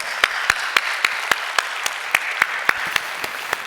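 A church congregation claps in unison at a Christmas Sunday and anniversary service, a steady run of rhythmic synchronized claps over a soft bed of wider applause.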